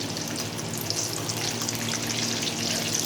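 Food is stirred while it fries in a pan at home. A steady, loud sizzle runs throughout with soft scraping mixed in, and nobody speaks.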